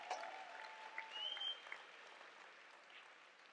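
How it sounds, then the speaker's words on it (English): A fairly faint, diffuse patter of audience clapping at a live show, with a brief whistle-like tone partway through, fading off toward the end. "Let's clap it up for them."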